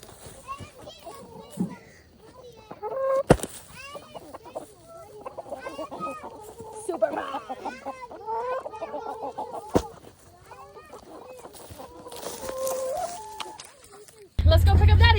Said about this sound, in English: so chickens are getting their sugar in